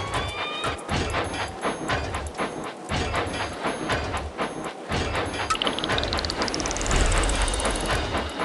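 A train engine from the Thomas & Friends Minis video game runs along tracks with rhythmic clickety-clack, hissing steam and a rising whistle-like tone near the end, loud and continuous.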